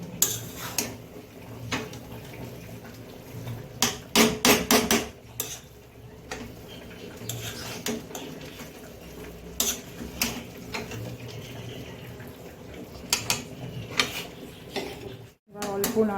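Cabbage cooked down with a fish head is stirred in a pan, giving scattered metal clinks and scrapes of a utensil against the pan in uneven bursts over a steady low background, loudest around the middle.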